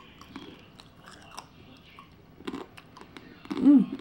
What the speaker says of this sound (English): You hear that crunchiness, my friends?